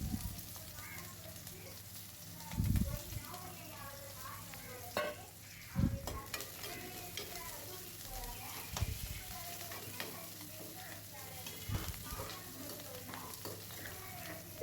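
Onions sizzle and fry in a pan with curry leaves while being cooked for a ponnanganni greens kootu, with a steady low crackle and a few louder stirring scrapes, and no voices.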